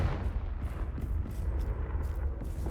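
A fiery Confringo blast spell from the game Hogwarts Legacy roars as a dense, rumbling explosion that stays loud for the whole moment without pause.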